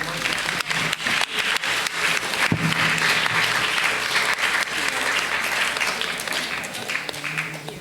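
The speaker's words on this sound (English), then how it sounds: "Let's give him a round of applause, everyone." Audience applause for a panelist at a student leaders' certificate awarding, a sustained round of clapping from a room full of people with a few voices talking underneath.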